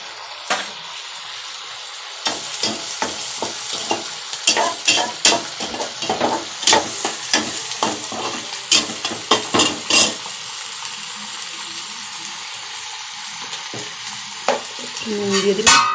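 Garlic sizzling in a hot pan while a spoon scrapes and stirs in quick bursts of clinks and scrapes, then settling to a steady low fry.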